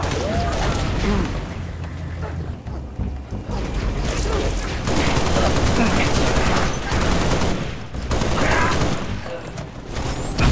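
Heavy gunfire from the video game Halo Reach, with dense bursts of automatic fire and blasts that stay loud and continuous throughout, and no clear voices over it.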